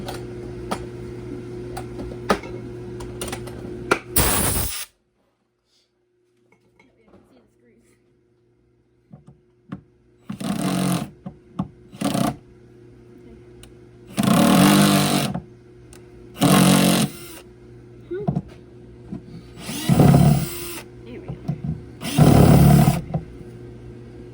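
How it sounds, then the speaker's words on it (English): A power drill whirs in reverse to unscrew a dog dish center, running in several short bursts of a second or two with pauses between, close and loud, with people talking before the runs. "you gotta put it in reverse and unscrew"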